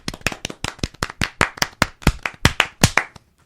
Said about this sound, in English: we're just going to do claps instead